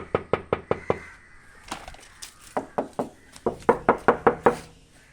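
Knocking on the body of a Bajaj Chetak electric scooter: two bursts of sharp, close knuckle raps, about five quick knocks, a few scattered taps, then a second run of about six louder knocks.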